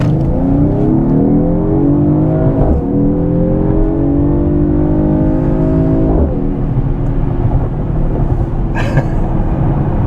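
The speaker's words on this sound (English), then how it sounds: "I have the vehicle in Sports Plus mode, and I'm gonna see how it accelerates on here." A 2021 Mercedes-AMG GT53 4Matic in Sport Plus mode accelerates hard, its engine note rising loudly through several gears with quick upshift breaks, heard close and alone without talking.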